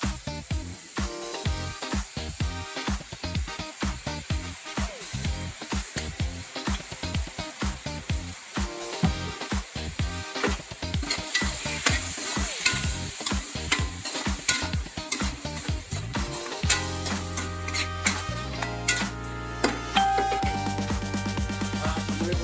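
Mixed vegetables and pork stir-fried with oyster sauce in a hot pan, giving a loud, steady sizzle with constant scraping and tossing of the spatula throughout, and no talking.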